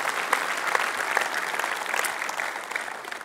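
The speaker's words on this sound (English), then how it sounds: "let's have a great applause for them." Conference audience applauding the registration desk volunteers at a keynote, a dense, steady wash of many hands clapping throughout, loud and sustained with no talk.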